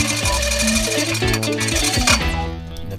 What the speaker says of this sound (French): La perceuse premier prix donne tout ce qu'elle a.